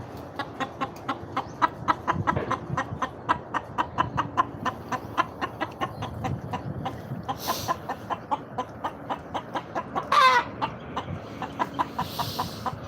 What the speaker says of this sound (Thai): ไก่ขาว